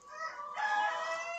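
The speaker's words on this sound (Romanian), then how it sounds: "Acolo am o cloșcă." A broody hen gives a short, drawn-out clucking call, a single nasal vocalisation rising slightly in the middle, fairly close and moderately quiet.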